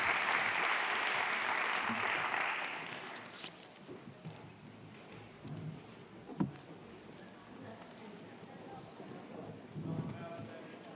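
Audience applause thanking the panellists at the close of a symposium panel discussion, a dense wash of clapping for about three seconds that then fades out into quieter room murmur and scattered voices.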